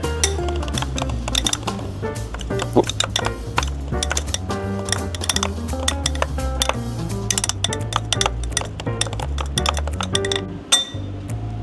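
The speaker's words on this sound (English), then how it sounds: "And then we're going to mix all of our dry ingredients together." Dry breakfast ingredients are mixed in a bowl with dense, rapid clinks and scraping taps of a utensil against the dish. The sound is continuous and close, with a musical backing underneath.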